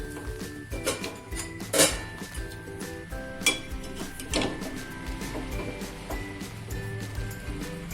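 Lapsi, a Gujarati cracked-wheat sweet, stirred in a covered pot in a home kitchen, with scattered clinks and scraping of a spoon against metal and a lid, loud knocks near two and three and a half seconds, over a steady low cooking hum.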